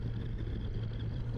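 A Kawasaki Versys 1100 SE motorcycle's engine holds a steady, low, continuous drone from the rider's position on a curvy road, with no distinct rise in pitch.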